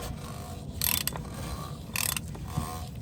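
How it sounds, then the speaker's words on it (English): Ratcheting clicks come from a tool working on the oil filter of a Toyota Camry 2.5L during an oil change, two short bursts of rapid mechanical clicking close by over a low background. "Now we're going to get our oil filter tool and line up those grooves. There we go. And then we're going to crack this loose."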